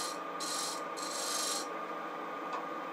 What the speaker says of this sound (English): This is end grain, so it does very well with this type of scraping action.